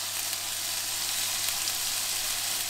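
Turkey and vegetables with curry sear hard in a hot pan, a steady, even sizzle crackling throughout with no voices.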